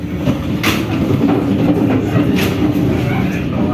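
KA Banyubiru passenger train running on the rails between Solo and Semarang, a steady loud rumble of wheels and carriage with faint clatter, heard from inside the train.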